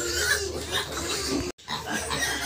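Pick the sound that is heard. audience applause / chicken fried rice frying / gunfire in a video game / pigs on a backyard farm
pigs on a backyard farm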